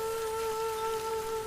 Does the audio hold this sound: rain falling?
yes